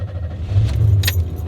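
Pontiac Fiero GT being started with the key on a rainy day: a close keyed ignition with a brief jingle of keys, then the engine cranking and catching into a loud, steady low rumble.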